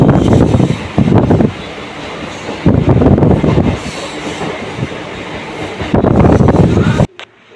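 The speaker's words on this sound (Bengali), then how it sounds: "ট্রেন চলছে," Inside a moving local train, a loud rumbling roll of wheels on track with rhythmic surges and clacks, a faint murmur of voices, ending abruptly.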